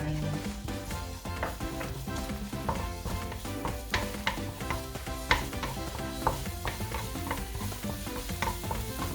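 Dried chilies and pounded garlic fry and sizzle in oil in a pan for a Thai stir-fry of beef with oyster sauce and basil, with repeated scraping stirs and clinks and a steady crackle beneath.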